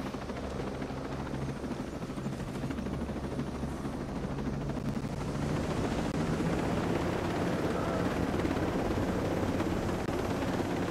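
A helicopter in the video game Ghost Recon Breakpoint, its rotor making a steady, dense thumping roar that holds loud throughout and swells slightly toward the end.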